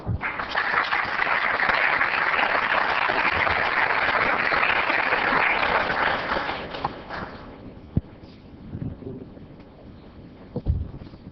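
Audience applause at a city council meeting in Oceanside, steady clapping for several seconds that thins out into scattered claps and room noise.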